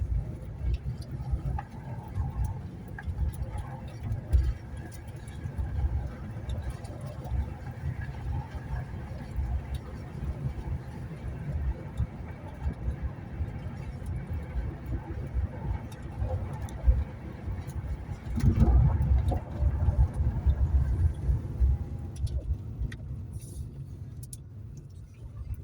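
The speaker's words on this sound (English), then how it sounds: "I've got the window open just to air it out a bit. So it might get a bit noisy on the drive." A Jaguar XK8 driving on a dirt track with a window open, giving a constant rumbling road and wind roar throughout, swelling louder near the end, with occasional birdsong faintly in the background.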